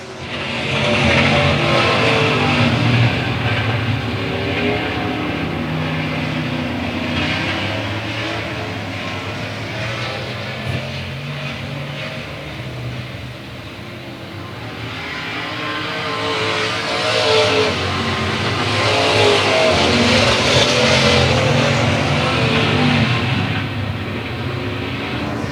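Race cars roar around the oval at South Texas Speedway, a loud, continuous engine drone that swells and fades as the pack passes, with no talking.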